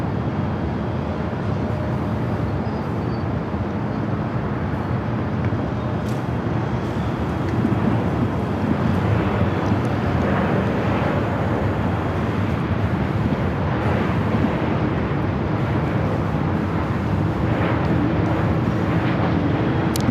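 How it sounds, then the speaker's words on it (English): China Cargo Airlines Boeing 777 freighter taking off from runway 25 right at LAX, a heavy broadband jet roar sustained and building steadily, loud and somewhat distant with wind buffeting. "We got that flight 222 taking off 25 right."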